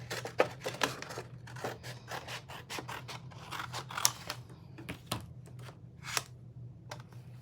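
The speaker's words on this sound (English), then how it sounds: "let me just grab some scissors. Okay, and I'm just going to cut this down." Scissors snip through paper at a craft table, a quiet run of short crisp cuts and scrapes spaced irregularly over a faint steady background hum.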